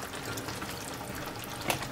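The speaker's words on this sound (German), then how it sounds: "So, jetzt Wasser." Water runs into a pot for Spätzle, a soft, steady splashing trickle close by and fairly quiet, with a brief louder splash near the end.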